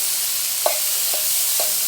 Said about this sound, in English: let them saute a bit